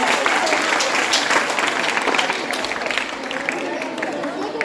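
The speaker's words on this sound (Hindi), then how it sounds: "एक बार जोरदार तालियां होनी चाहिए" An audience of students bursts into loud, continuous applause at an environmental-awareness quiz, dense clapping filling the room and slowly easing off, with voices mixed in.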